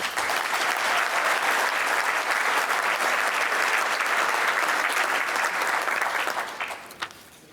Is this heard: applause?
yes